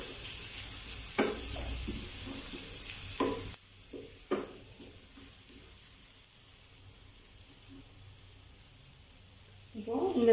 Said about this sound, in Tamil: கேரட் இதெல்லாம் சேர்த்து நல்லா வதக்கிக்கோங்க